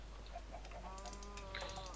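A chicken in a survival video game gives a few short clucks over a steady low background hum, close and moderately loud across two seconds.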